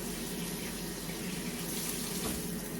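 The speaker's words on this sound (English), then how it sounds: "run that under cold water, buddy" Cold tap water runs steadily into a kitchen sink while a meatball sandwich is being cooked, a continuous close rushing hiss with no talk over it.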